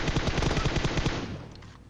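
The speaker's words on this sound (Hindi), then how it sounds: "पहले से गोलियां मारने लग जाओ" Rapid automatic gunfire from pre-firing in the mobile game PUBG Mobile rattles out in a fast, even burst of about a dozen shots, then cuts off and trails into a fading echo.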